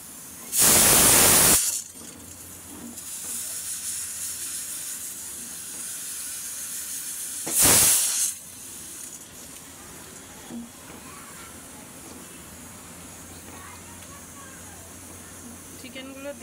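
Frozen chicken dropped into a hot pot for dog-friendly biryani gives two loud bursts of hissing steam, the first longer, the second shorter several seconds later, with quieter simmering and someone talking between.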